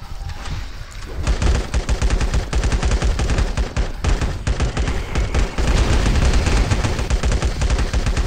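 Gunfire in the video game LifeAfter during a camp boss battle against zombies: loud, dense automatic fire that starts after a short quieter moment and keeps rattling almost without pause, with a few heavier booms mixed in.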